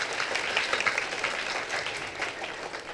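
A seminar audience at a theatre acting event claps to welcome a guest to the stage, a dense, fairly faint wash of applause that holds steady throughout.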